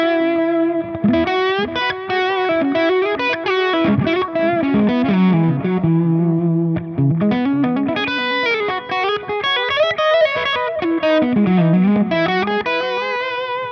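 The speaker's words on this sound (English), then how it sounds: "If we do want that delay, it's going to sound like this." Distorted electric guitar riff through a Line 6 Helix Sunn-style amp model with a delay effect, repeating notes echoing behind the playing, steady and loud throughout.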